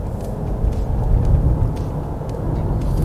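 A Honda CR-V hybrid SUV accelerates on a quiet road, heard as a steady low engine and road rumble from inside the cabin that swells slightly in the middle.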